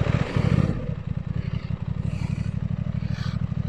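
An Aprilia Tuono 660 motorcycle engine fires up nearby, a brief starter burst settling into a loud, steady, fast-pulsing idle with no talking.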